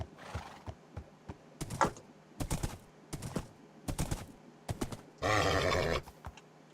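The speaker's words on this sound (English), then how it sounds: "they're horses, because they make horse sounds" Horse neighs and whinnies from the video game Wak Ka' Múul Chronicles, coming in short bursts with clip-clopping hooves between them and one long, loud whinny near the end.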